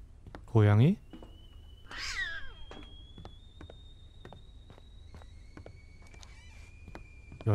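A cat meows loudly once in the horror video game Amber Alert, followed by a softer drawn-out cry, over footsteps and steady ambient tones.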